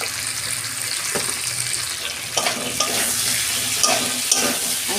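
Cauliflower and potato curry with chilli powder sautés in a pan, a continuous sizzle with stirring scrapes that grows a little louder midway, with occasional sharp clinks.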